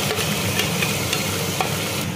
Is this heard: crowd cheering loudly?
no